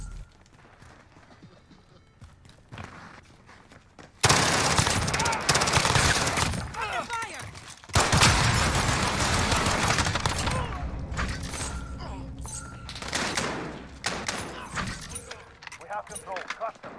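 Video game shotgun fire erupts in dense, loud bursts that come in two main waves, mixed with other combat noise and a voice talking over it.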